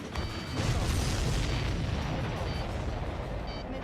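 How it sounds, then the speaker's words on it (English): Missile explosions in the Ace Combat 7 video game roar as a sustained, heavy booming rumble with layered blasts, loud and close, slowly fading toward the end. "Missile away."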